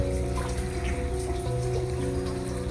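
Water runs steadily, a close continuous splashing trickle with a faint hum beneath it.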